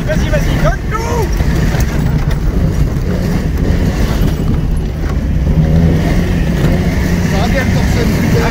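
A Peugeot 205 HDI fitted with an Iveco injection pump revs hard, a steady loud diesel drone held close, with people shouting encouragement over it.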